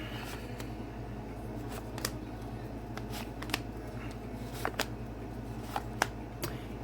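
Tarot cards laid down one by one on a table, faint soft slaps and flicks at an irregular pace over a low steady hum, close and quiet.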